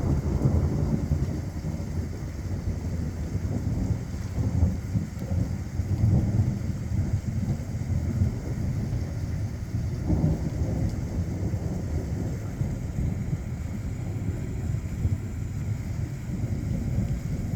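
Thunderstorm over the Dallas–Fort Worth area, with steady rain and low rumbling thunder rolling in and out through the whole stretch, fairly distant and continuous.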